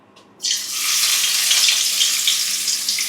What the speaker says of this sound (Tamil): நாங்க இப்போ கடலைக்கு வந்து தாளிக்கோம்